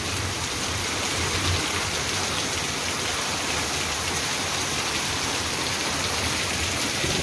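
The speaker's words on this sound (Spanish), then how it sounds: "Para que se ponga más bonito el río, amigos, con esta lluvia." Steady rain falls near a river, a dense, even wash of drops pattering on surfaces with flowing water beneath, constant and moderately loud with no voices.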